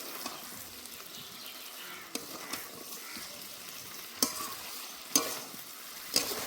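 Green jackfruit sautéing in a pan, a steady low sizzle broken by several sharp spatula knocks and scrapes against the pan as it is stirred, close and clear, with no voices.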